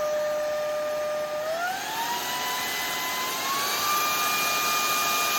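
A Jigoo C300 stick vacuum cleaner runs continuously and loudly up close, its steady whine and airy roar stepping up in pitch twice as the suction power is raised.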